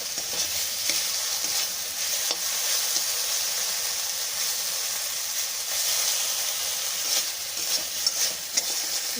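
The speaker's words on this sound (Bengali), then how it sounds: "এই যে বারবার করে আমি এই যে নাড়াচ্ছি, মশলাটা এই যে গায়ে মেখে গেছে।" Bitter gourd frying with spices in a pan over a low flame, a steady close sizzle and hiss with occasional scraping taps as the pieces are stirred.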